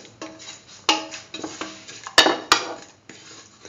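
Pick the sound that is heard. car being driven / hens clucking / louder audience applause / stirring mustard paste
stirring mustard paste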